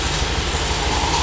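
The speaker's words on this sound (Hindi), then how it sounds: "दोस्तों गाड़ी स्टार्ट है" A Honda Activa 6G scooter engine idles with a steady, even low putter at moderate volume, heard alone for a moment.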